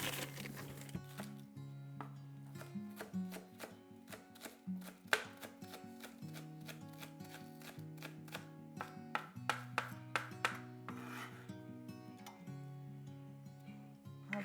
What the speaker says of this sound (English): Put some green onions.